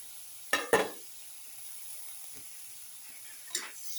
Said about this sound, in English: Putting the tomato pieces